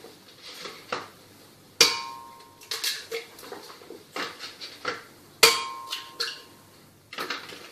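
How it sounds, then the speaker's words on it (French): Three whole eggs are cracked one after another into a salad bowl or blender while making a far breton: sharp taps and clinks against the rim, with two bright ringing knocks standing out, then soft shell-breaking sounds, close and with no talk. "je vais casser les 3 œufs entiers"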